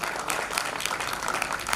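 Brief burst of lively applause at a mobile app launch ceremony, many hands clapping densely and evenly.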